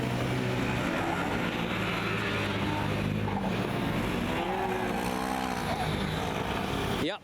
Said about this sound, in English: I can clearly hear the car from Isat Nevers that has started